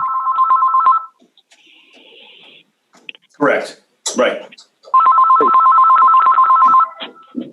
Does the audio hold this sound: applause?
no